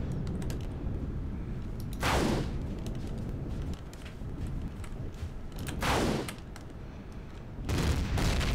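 Sniper shots in the space survival game Empyrion Galactic Survival, three sharp gunfire cracks spaced a few seconds apart, each with a short decaying tail over a steady low background rumble.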